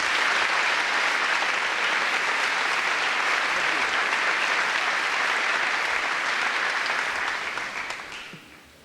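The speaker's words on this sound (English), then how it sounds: "Give them a round of applause, please." Steady, dense applause from a graduation audience honoring scholarship-winning high school seniors, sustained at even loudness before tapering off near the end.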